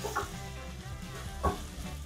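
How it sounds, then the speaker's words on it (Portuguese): Bacon fries in hot oil with a close, continuous crackling sizzle, broken by a couple of stirring scrapes in the pan. "primeiro vamos fritar o bacon."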